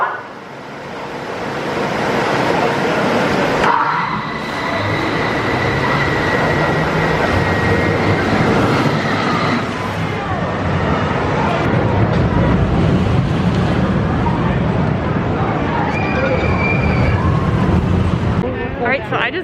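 The V2 roller coaster at Six Flags Great America launches, with a loud, continuous roar of wheels and track rumbling, rising and surging as the ride races along, and riders' voices mixed in.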